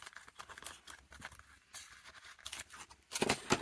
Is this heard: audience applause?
no